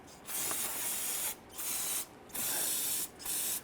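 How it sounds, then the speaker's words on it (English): Solvent sprays from an aerosol can onto the radiator hose connections of a 1999-2004 Jeep Grand Cherokee 4.7L V8 in four loud, close hissing bursts separated by short pauses. "go ahead and use some spray solvent."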